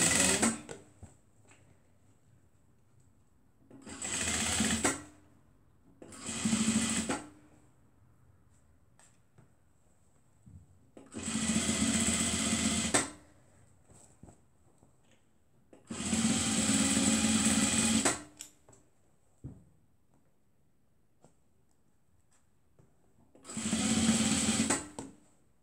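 Sewing machine stitching fabric for a cuddle scarf, running in six separate loud bursts of steady whirring with quiet pauses between them and no talk.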